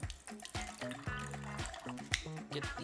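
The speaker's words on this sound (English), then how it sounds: "If it's something packed in liquid, you can drain it first" Liquid being drained from a can, trickling and dripping with a bubbly, gurgling pour that comes in short uneven splashes, close and fairly quiet.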